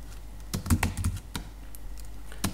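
Close, crisp typing on a computer keyboard while writing Swift code for an iOS app, a quick run of key taps followed by a pause and a single later tap, over a steady low hum.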